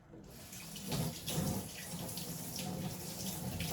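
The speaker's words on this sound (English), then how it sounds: "Now I'm gonna rinse that fork off." Kitchen tap running steadily into a sink as a fork is rinsed under the stream, a continuous close splashing flow with small bumps of clatter partway through.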